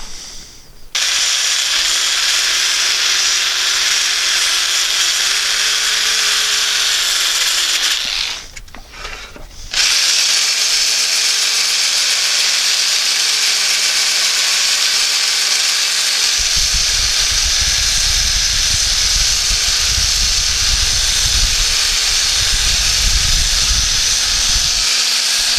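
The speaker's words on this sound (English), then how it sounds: "just a little bit of sanding with my drill" A drill with a sanding attachment works a turned wooden bowl, a loud steady whirring hiss that pauses briefly partway through and then resumes with a heavier rubbing tone.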